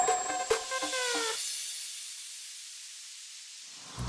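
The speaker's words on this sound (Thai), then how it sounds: "เรามีตัวเครื่องอบหมวกกันน็อกครับกำลังทำงานอยู่เลยมีลูกค้าใช้งานพอดีเลย" A motorcycle helmet dryer runs at a car wash in Krabi, giving off a steady airy hiss with faint tonal whine and a few clicks at the start, which fades out before a soft thump at the end.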